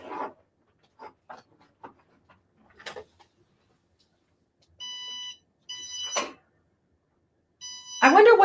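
Warning beeps from a plugged-in appliance in a quilting sewing room: three separate bursts of steady electronic tones, each about half a second, clear and close, with faint clicks and handling noise between them.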